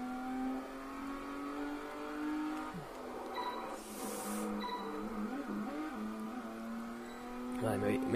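Car engine from the racing game Test Drive Unlimited 2, revving steadily with pitch shifts as it drives and brief whooshes, under someone speaking Spanish.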